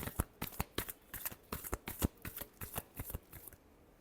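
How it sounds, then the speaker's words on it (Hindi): Tarot cards riffled in a final shuffle, a rapid run of crisp, close flapping snaps that repeats for several seconds before stopping. "last shuffle"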